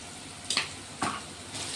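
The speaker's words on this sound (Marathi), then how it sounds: "आणि मस्तपैकी तेल मास परतायलेवानं." Chopped onions sautéing in oil in a pan, a soft steady sizzle with a couple of louder stirring scrapes, close and fairly quiet.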